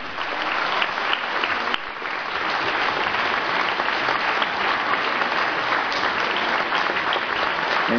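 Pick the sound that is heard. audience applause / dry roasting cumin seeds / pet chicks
audience applause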